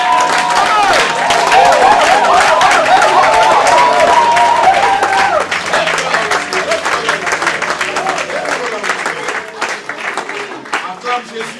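A church congregation at a seminary service applauds and cheers loudly and steadily, dense clapping and voices filling the space for several seconds before thinning slightly toward the end.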